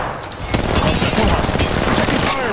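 Gunfire in a game, with Gibraltar taking fire: after a brief lead-in a loud burst of rapid shots starts and keeps going in a dense, sustained volley up close.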